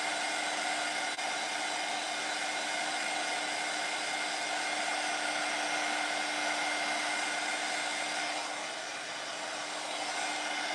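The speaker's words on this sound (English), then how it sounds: "We've already thrown out one heat tool." A heat tool drones loud and steady throughout with a constant hum while working on a luxury Easter egg candy bowl, dipping slightly near the end, with no voices.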